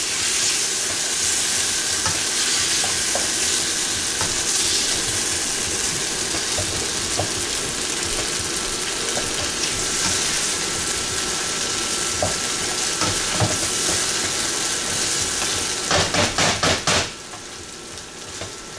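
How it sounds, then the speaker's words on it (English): Chicken sautés in a pan on a high flame, giving a dense, loud, continuous sizzle with faint stirring scrapes and a quick burst of rattling clatter near the end, with no talk. "And on high flame I'm going to saute this."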